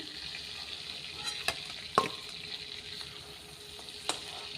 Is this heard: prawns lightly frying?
yes